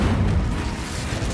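An Incendio fire spell is cast in Hogwarts Legacy. A deep, booming burst of flame rolls out loudly and stays heavy throughout, like an explosion.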